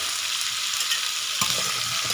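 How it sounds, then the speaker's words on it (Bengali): Chopped eggplant tips into a hot pan of mixed vegetables and sizzles steadily, a continuous close frying hiss with a brief stir-scrape accent near the middle, no voices. "এবার এর মধ্যে আমি দিয়ে দিচ্ছি কেটে রাখা বেগুনগুলো।"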